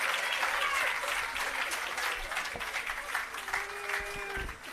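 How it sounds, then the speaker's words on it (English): Audience applause for Prime Minister Holness at the commissioning of the Parnassus irrigation system in Jamaica: steady, broad clapping from a large crowd that holds for the whole stretch before thinning out at the end. "Please give him another round of applause"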